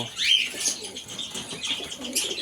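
Wings flap in a quick burst as Indian fantail pigeons take off nearby after feeding, followed by soft cooing and faint chirps.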